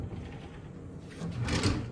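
A sliding drawer in a wardrobe of an overwater villa room in the Maldives is opened or closed with a soft rumbling slide that grows louder toward the end, heard close up and without speech.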